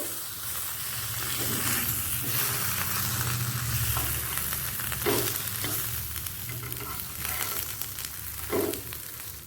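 Bhola vetki fish paturi frying in a pan gives a steady, close sizzle and hiss with occasional louder crackles and stirring scrapes, no voices.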